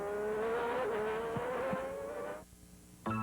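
Onboard engine of Ayrton Senna's Formula One car at the United States Grand Prix, a loud high-pitched wail climbing steadily in revs, then a sudden drop to near quiet before the engine screams back in.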